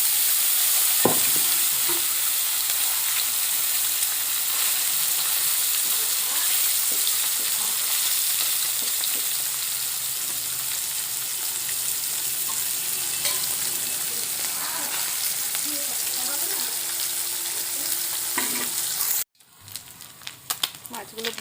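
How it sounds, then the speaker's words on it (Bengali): Small fish fry in hot oil with a dense, steady sizzle and occasional spatters and stirring clatter, close and loud throughout before cutting briefly near the end. "সব মাছ এইভাবে আমি ভেজে নিলাম।"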